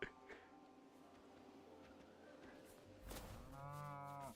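A cow in the video game Lego Fortnite lets out a drawn-out moo that swells near the end, close and clear over a faint background.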